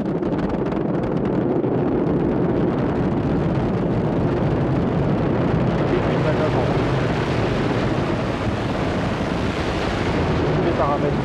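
Ariane 5 rocket liftoff with its Vulcain engine ignited: a continuous, loud, broadband roar with rumbling low end builds and holds throughout, with a voice faintly under it.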